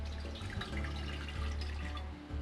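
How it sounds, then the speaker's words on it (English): Two cups of water pour steadily into a big 12-quart stock pot for braised corned beef, a continuous close splashing stream with no talk. "And I'm going to start with 2 cups of water."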